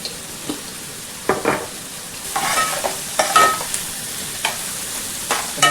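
Onions and okra frying in oil while being stirred: a soft steady sizzle broken by several short scraping strokes of a spoon against the pan, close and fairly loud, with no talking.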